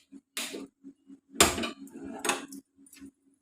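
Millet porridge stirred in a pot on a stove over medium flame, with intermittent metallic scrapes and clinks of a spoon against the pot, separated by quiet pauses.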